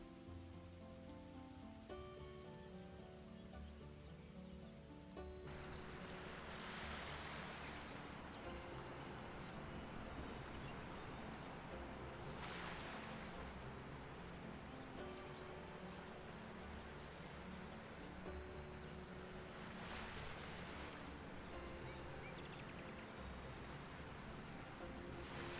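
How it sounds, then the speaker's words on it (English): Waterfall ambience in a video game under development: a steady broadband rush of falling water, soft and continuous, swelling slightly at intervals with faint tonal sounds underneath. "The player should only really hear the waterfall around here."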